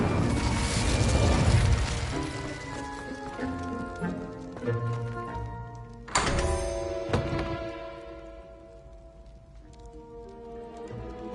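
Incendio fire spell cast in a wizarding video game, a burst of whooshing flame with booming impacts and ringing magical tones, loud at first then decaying through several softer hits and lingering shimmer.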